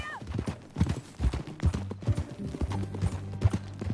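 Horse hooves in Red Dead Redemption 2 clip-clop in an uneven trotting rhythm, close and clear, with a low steady tone underneath and brief voices.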